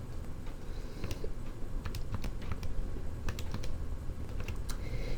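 Calculator keys being tapped to enter an algebraic expression while solving a radical equation, a steady run of light clicking presses with no talking, close and moderately loud.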